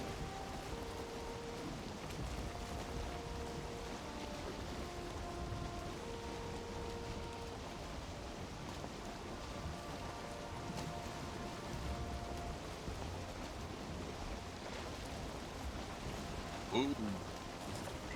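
Steady rain patters across an open outdoor scene in Valheim, a continuous soft wash of drops lasting throughout, with a person's voice and low tonal music lines sitting underneath.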